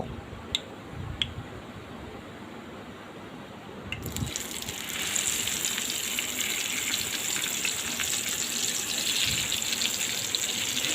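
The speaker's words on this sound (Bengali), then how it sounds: "এখন আমার তেলটা গরম হয়ে আসছে আমি এখন মাছগুলো এক এক করে দিয়ে দিব" Magur catfish pieces dropping one by one into hot oil in a pan, a loud, steady hiss and bubbling sizzle that swells after the first few seconds and carries on without talk.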